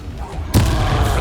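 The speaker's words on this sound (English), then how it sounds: "Bombarda, arrest their momentum." A Bombarda spell explosion in the video game Hogwarts Legacy hits as a sudden heavy boom that swells into a dense rumbling roar over a steady background of game sound.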